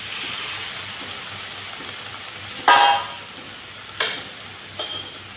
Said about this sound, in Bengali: এবার ভেন্ডির টুকরোগুলো দিয়ে দেব।